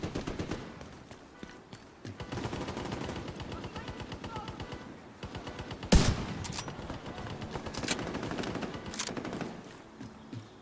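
Rapid automatic video-game gunfire chatters in steady rhythmic bursts, with one sharp louder shot about midway, fairly close and crisp, while a voice speaks faintly in the background.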